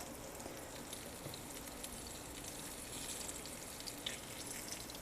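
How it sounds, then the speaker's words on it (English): Steady, close sizzling of zucchini frying in hot oil, a continuous crackling hiss with small pops throughout. "You can hear that sizzle too."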